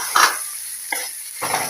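Chopped okra going into a hot tempering, heard as short, sharp bursts of sizzle and stirring clatter separated by near-silent gaps, loud and close.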